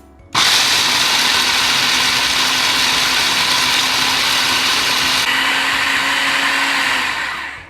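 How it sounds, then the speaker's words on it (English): Electric blender grinding peanuts into peanut butter, a loud steady motor whine with coarse grinding that starts abruptly and runs continuously to the end, no voices. "after blending for 20 to 30 seconds, the peanut already turned into a quite coarse texture"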